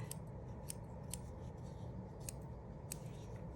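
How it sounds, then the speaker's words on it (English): A few crisp snips of scissors trimming the edge of a needle-felted wool penguin, close and light over a steady background hiss. "Just trim a little bit of this edge here, just to keep that smooth."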